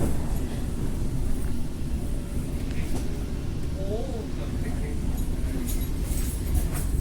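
A Metlink commuter train pulls out of Wellington Station on the Johnsonville Line, giving a continuous low rolling rumble with faint rattles throughout.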